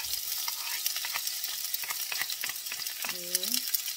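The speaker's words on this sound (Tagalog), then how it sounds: "Igisa lang natin ang ating garlic, onions, at saka" Garlic, onions and chili sauté in olive oil, a steady bright sizzle with scattered stirring scrapes throughout; near the end a brief tonal squeak or whistle rises over the frying.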